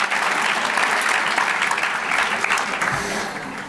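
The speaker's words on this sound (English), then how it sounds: "Give yourselves a round of applause." A conference audience at a closing keynote claps loudly and steadily for nearly four seconds, a dense wash of applause that fades a little toward the end, with no speech over it.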